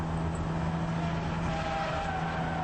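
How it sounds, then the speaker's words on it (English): Race car tyres squeal and the engine drones loudly as the car plunges downhill through Paddock Hill Bend at Brands Hatch, heard as a steady close-up roar with a high tyre whine. "Squeal of tyres, fighting for control as he goes plunging downhill."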